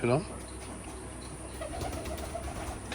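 A pair of red pilong pigeons at a pigeon farm coos, with a short close warbling call at the start, then faint murmurs and soft rustling through the rest.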